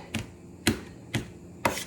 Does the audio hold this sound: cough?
no